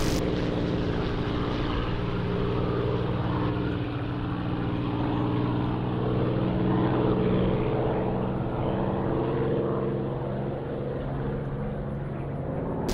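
Spitfire fighter engines in the DCS flight simulator drone steadily and loudly throughout, a continuous propeller roar with no pauses or talk.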